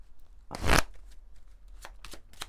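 Oracle cards shuffled during a card reading, one prominent soft rustling riffle followed by a few lighter taps and flicks, close and quiet with no voices over it.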